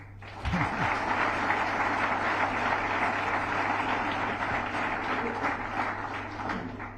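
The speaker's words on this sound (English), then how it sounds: "You can clap for yourself." Students at a governor's gathering with National Service Scheme volunteers break into sustained applause, a dense wash of many hands clapping steadily for several seconds before slowly thinning out.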